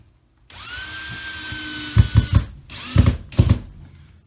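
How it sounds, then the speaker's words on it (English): A power drill drives screws through drywall into studs on a homemade sheetrock hoist, the motor whining steadily then bursting into loud, close grinding pulses in two short runs. "Now I just need to drill a couple of screws into position to hold it"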